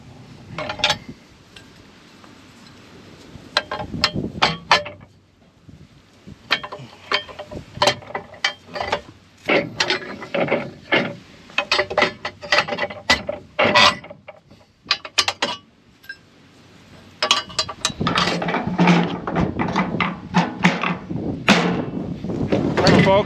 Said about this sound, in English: when you hear a grinding sound, stop!